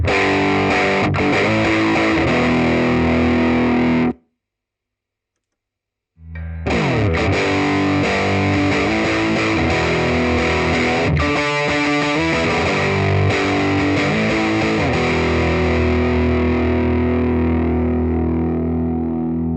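Distorted electric guitar through a Laney LV100 combo amplifier, played loud and dense with a brief silent break before the playing resumes, no talking.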